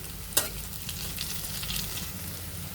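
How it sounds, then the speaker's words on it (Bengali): Drumstick leaf fritters sizzling steadily in hot oil, close by, with one sharp clink of a utensil near the start and soft stirring scrapes. "ভালোভাবে এর ওপাশ উল্টিয়ে ব্রাউন কালার হওয়ার আগ পর্যন্ত এভাবে পুরাগুলো ভেজে নিতে হবে"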